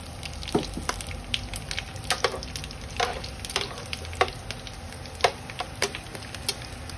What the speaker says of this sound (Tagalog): Pritohon ang pusit